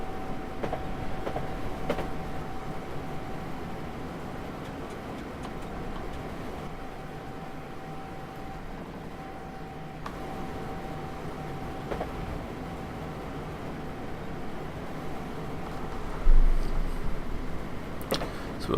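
A Train Simulator 2019 train runs on the London Liverpool Street to Braintree line, giving a steady low rumble with a faint constant tone and occasional clunks. A louder bump comes near the end.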